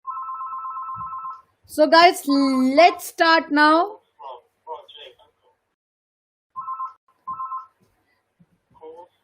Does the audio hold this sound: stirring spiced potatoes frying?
no